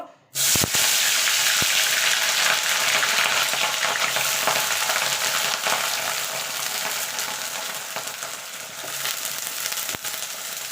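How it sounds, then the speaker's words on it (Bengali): Cauliflower frying in hot oil in a wok: a loud, steady sizzle bursts in within the first half second and keeps crackling without a break to the end, with no voices. "ফুলকপিটা আগে প্রথমে আমি ভেজে নেব।"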